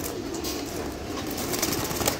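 Pigeons of a single bloodline, jabda and jira types, cooing in a loft at steady low level; the flapping is not distinct, and there is no talk.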